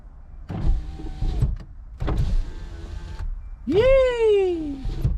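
Power window motors on a 2006-2007 Honda Accord with a replaced master switch whir loudly in two long runs, the second a rising then falling strained whine, with faint talk and cabin noise underneath.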